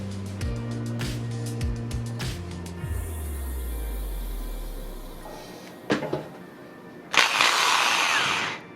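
A power drill perforates drainage holes in a flower pot, whirring in short bursts at varying speeds, then winds down, followed by a few knocks and a loud harsh grinding burst.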